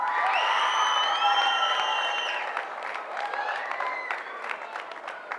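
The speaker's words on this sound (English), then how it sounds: "So give yourselves a round of applause." Students in a crowd applaud and cheer at a Manitoba Winter Games announcement, loud sustained clapping mixed with high whoops and shouts that slowly taper off.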